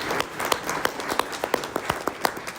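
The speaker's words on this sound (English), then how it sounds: "Let's just give a huge round of applause" Audience at a climate town hall in Duluth, Minnesota, clapping in a sparse, fairly quiet round of applause with distinct individual claps.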